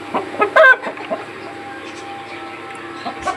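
Hens clucking and a rooster calling in a backyard poultry shed, several birds close by with short bursts of clucks over a steady background of quieter clucking.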